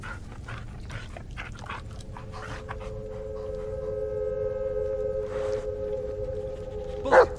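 A dog named Bullet in the horror video game Blair Witch, with soft breathy bursts early on giving way to a steady whining tone and a sharp close sound at the end. No talk is heard.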